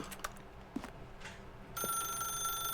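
Telephone ringing in the video game The Stanley Parable, a bright electronic trill that starts partway through and rings on steadily, with faint thuds and room noise before it.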